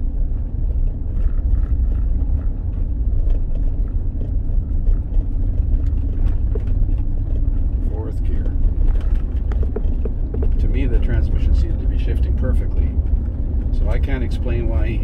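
A 2003 GM truck with a 4L60E automatic transmission runs in third gear during a pressure test, giving a continuous low engine rumble with scattered clicks and voices.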